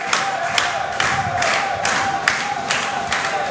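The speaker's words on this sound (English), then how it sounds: "This crowd trying to get Blaq back into this matchup, back up onto his feet." A wrestling arena crowd roars continuously around a match, with steady loud cheering and surging shouts rising in repeated waves, no clear talk over it.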